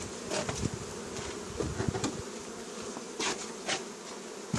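A dense, continuous buzzing of many honeybees at a hive, with individual insects droning louder as they pass near.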